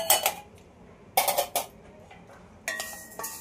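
Urad dal, 125 grams, is dry-roasted in a pan for chakli flour. A utensil scrapes and clinks against the pan in three short clusters, with quiet gaps between them and no talking.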